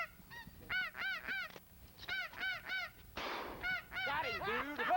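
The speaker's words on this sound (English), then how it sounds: "Man, you got geese everywhere." Many geese honking loudly during a goose hunt, overlapping calls from a flock coming in bursts across the whole stretch, with a dense burst of noise midway.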